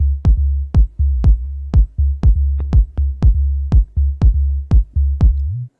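Organic house groove of a sine sub bass locked with a short-decay kick, about a dozen punchy thumps in a steady four-on-the-floor pulse with a deep humming low end, loud and alone.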